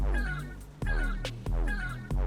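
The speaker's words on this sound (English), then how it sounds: "It has the meow sound effect that I like to put in all my vehicles" A cat meow sound effect in the video game Trailmakers plays three times in a row, each a clear, drawn-out call with a falling tone. The meows are close and fairly loud with no talking.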